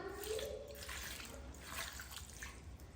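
About one and a half glasses of water pour into a cooking pot of salted, turmeric-seasoned jackfruit seed and core stir-fry, a soft, quiet splashing and trickling with no voices.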